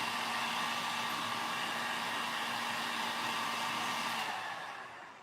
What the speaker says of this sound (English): I'm going to come back in now with a heat gun. And heat this up nicely.